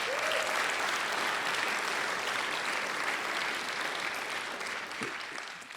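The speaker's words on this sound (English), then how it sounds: "We can give a big round of applause for Sound Toys." Sustained audience applause at a MixCon 2017 mixing masterclass, dense steady clapping from a large crowd that holds throughout and tapers slightly at the end, with no talking over it.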